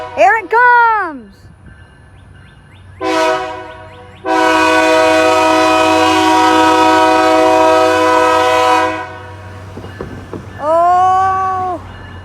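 A single terminal railway locomotive sounds a long, loud sustained horn blast after a short toot, heard from nearby, with meow-like sounds before and after.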